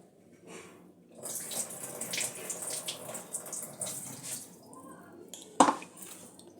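Poha (flattened rice) being rinsed under running water in a kitchen, with water splashing and trickling in bursts and a sharp knock of a vessel near the end.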